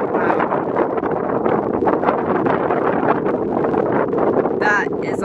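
Strong wind buffets the microphone on a golf course, a steady roaring gusty rush that persists the entire time, with a brief faint high chirp near the end.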